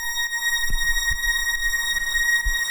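Synthesized saw-wave strings drenched in heavy reverb hold a bright, sustained chord of stacked tones, while soft low thumps pulse underneath at irregular intervals.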